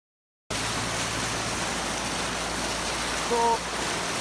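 Rushing flash floodwater roars as a steady, loud broadband wash after a brief silent start, with a faint tonal chirp near the end.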